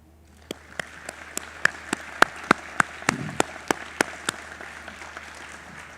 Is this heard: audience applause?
yes